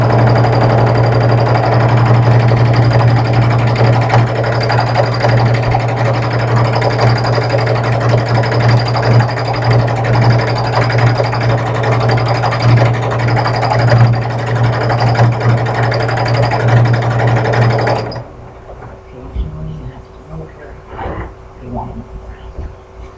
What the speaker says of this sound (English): lower my pressure foot down, engage my needle position down